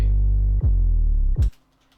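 808 bass made in FL Studio 20, three deep booming notes, each sliding downward in pitch, loud and close, ending in quiet.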